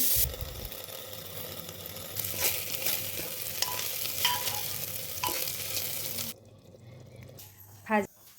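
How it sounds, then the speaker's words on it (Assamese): Dry fruits and rice fry in refined oil in a cooker pan, a steady loud sizzle with scraping stirs, before the frying sound cuts off near the end. "অকণমান ৰিফাইন দি পেলাই ড্ৰাই ফ্ৰুটখিনি ভাজি লৈছোঁ। ভাজি পেলাই চাউলকেইটা দি দিম, দি অলপ সময় ভাজিম"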